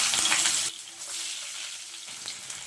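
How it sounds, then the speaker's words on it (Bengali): Jackfruit seeds frying in a pan for a mixed vegetable chorchori: a loud close sizzle that drops to a softer, steady hiss with light crackles. "কাঁঠালের বীজটাও ভেজে নিচ্ছি।"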